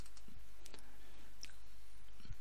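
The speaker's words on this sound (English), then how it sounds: "Click on DiComPortable.exe" A few faint, sparse mouse clicks on a computer, brief dry ticks that sit quietly over a steady background hiss.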